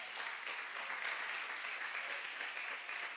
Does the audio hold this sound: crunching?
no